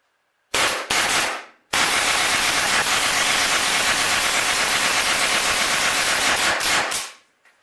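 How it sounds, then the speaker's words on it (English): An Autococker paintball gun with a Shocktech Gunfighter frame firing indoors: two quick shots, then a long rapid, loud stream of shots lasting several seconds before it stops, with no voices. "Seems to shoot pretty fast, pretty effortlessly."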